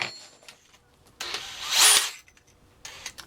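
A Dewalt DCD796 hammer drill turning a 12mm auger bit into wood, heard as a quiet whirring burst that swells into a louder grinding bite, then stops, with faint handling noises around it.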